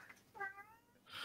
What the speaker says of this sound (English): it's not a pre-recorded meow track. That is a live meow.